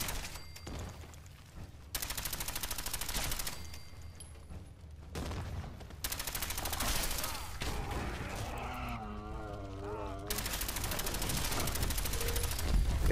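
Rapid automatic gunfire from the Spray and Pray weapon in Fallout 4, fired at Mirelurks, comes in long sustained bursts broken by brief pauses, with creature screeches and game effects mixed in.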